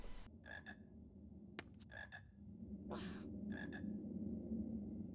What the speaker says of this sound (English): How can I hear a frog croaking through stone walls anyways?